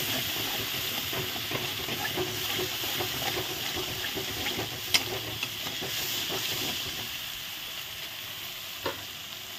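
Food with sour curd being stirred in a frying pan, a continuous close hiss and sizzle of frying with scattered soft spatula scrapes and a couple of sharper clinks, no talking.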